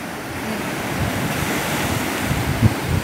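Ocean waves breaking at Sliema beach in Malta, a constant rushing surf mixed with heavy wind buffeting the microphone, with a sharper splash near the end.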